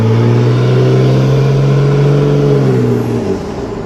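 A car engine fitted with a VL turbo drones loudly and close, its steady humming tone rising slightly in pitch under acceleration before easing off and fading near the end.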